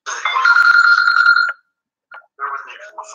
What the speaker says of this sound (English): Bear with me for my phone.